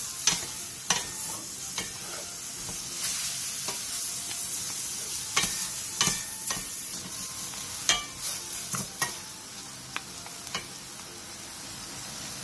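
Beef and soaked miyeok seaweed stir-fry in a pot for Korean seaweed soup, giving a steady close sizzle broken by repeated spatula scrapes and clicks, with no talking.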